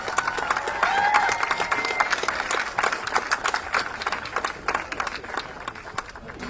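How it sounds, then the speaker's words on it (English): Crowd applause and cheering at a high school girls soccer senior night honoring the senior class of 2024, a steady dense roar of clapping with a faint announcer voice at times. "one more round of applause for the senior class of 2024"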